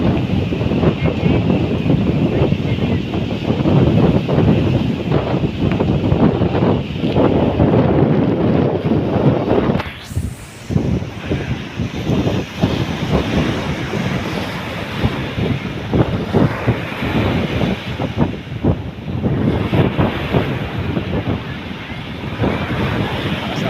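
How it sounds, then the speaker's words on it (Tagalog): Sea waves and strong wind batter Manila Bay during a typhoon at high tide, a loud continuous roar of surf and gusting wind noise on the microphone that fills the whole stretch. "alon guys"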